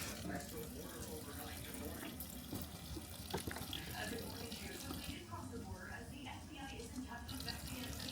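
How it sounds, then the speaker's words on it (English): Warm water runs steadily from a kitchen sink tap as a continuous faint splashing stream, with a person talking quietly nearby. "Then I use a little warm water here from the sink."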